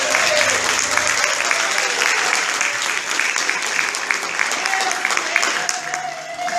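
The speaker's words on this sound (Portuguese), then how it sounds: "Aplauda Jesus nessa noite." A church congregation applauds during an evening worship service, a dense, steady wash of many hands clapping at close range for several seconds with a faint murmur of voices underneath.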